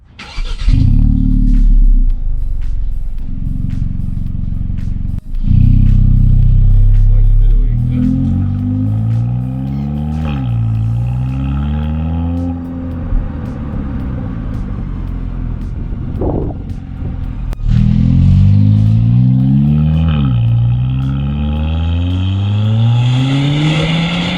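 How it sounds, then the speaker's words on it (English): A 2020 Kia Forte GT with its factory sport-tuned exhaust is revved repeatedly up and down, loud and close, with pitch sweeping between rumbling idle and higher revs. "this engine with the sport-tuned exhaust actually produces some wicked noises from the factory"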